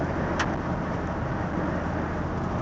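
A 1973 Pontiac Catalina with 97,000 miles cruises along a dead-end road, giving a steady, close engine and road rumble with broadband tire and wind noise and one brief brighter tick.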